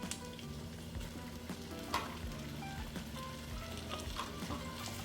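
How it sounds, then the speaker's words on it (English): Chopped tomato, onions and garlic sizzle steadily in a hot pot while a spoon stirs them, giving a close, continuous crackling fry with small scraping clicks. "Give it a little stir."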